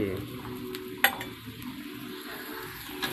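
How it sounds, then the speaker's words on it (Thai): Red curry paste stir-fries in a pan over low heat, a soft continuous sizzle with a sharp metallic clink of a utensil against the pan and a few lighter scrapes; no talking. "ผัดพริกแกงให้หอมนะครับ ไฟอ่อนนะครับ"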